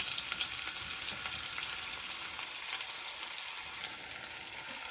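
Sliced onions dropped into hot oil for an egg curry sizzle and crackle steadily, a dense close frying hiss with small pops throughout and no voices.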